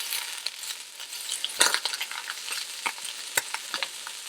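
Chicken pieces frying in a pan for a Greek chicken salad, turned over with a fork: a steady close sizzle broken by scattered sharp clicks and scrapes of the fork against the pan.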